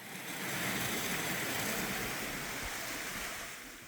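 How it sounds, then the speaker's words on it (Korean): Steady rushing water of Deungseon Falls near Chuncheon, South Korea, roars continuously, a dense broadband wash with no pauses, fairly close and even in loudness. "이 폭포가 바로 등선폭포입니다."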